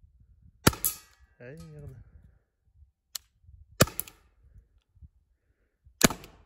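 Three sharp, loud gunshots fired at a chronograph used as a target, spaced a couple of seconds apart, with a faint extra crack between and a man's brief exclamation early on.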